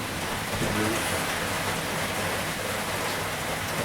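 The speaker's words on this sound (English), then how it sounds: "the sound of the rain hitting on the roof" Steady rain drums on a roof during stormy weather, a dense, even hiss of drops that stays constant and fairly close with no talking over it.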